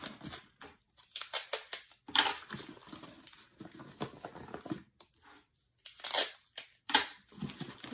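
Tape is pulled and pressed down over a folded craft piece at close range, with short crinkly tearing and crackling bursts separated by brief silences.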